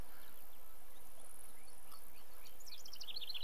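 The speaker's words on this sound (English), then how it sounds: "That was fly buzzing around" Fly buzzing in the Fishing Planet video game, a steady thin drone close by that swells into a louder wavering buzz near the end, with no talking.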